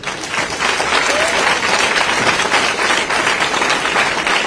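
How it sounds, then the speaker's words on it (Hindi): Sustained, dense applause from an audience welcoming Governor RN Ravi as chief guest at a Hindi literary academy event at Vaishnav College, Tamil Nadu; loud, steady clapping fills the whole stretch without letting up. "उनके लिए ताली बड़ी शानदार होनी चाहिए।"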